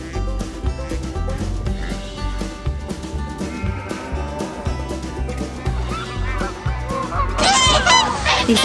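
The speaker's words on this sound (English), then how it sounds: "This is a gander." Loud honking calls from a gander, a male goose, sound repeatedly over a busy farmyard background, with other animal noises mixed in and a burst of harsher cries near the end.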